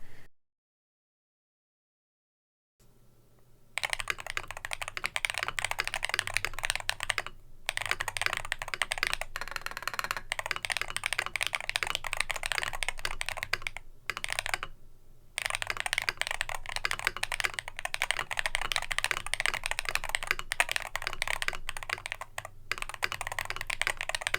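Fast, continuous typing on an ATK RS7 Air keyboard with loud Ice Blade switches: dense, sharp clacking keystrokes up close, broken by a few brief pauses after an opening stretch of silence.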